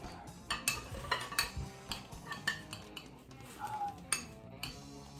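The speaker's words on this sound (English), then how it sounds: "I'm gonna scoop out some of this egg and mushroom baked scrambled egg mushroom" A spoon scoops baked duck eggs and mushrooms from a dish, giving quiet, irregular clinks and scrapes of metal against the dish that come close together.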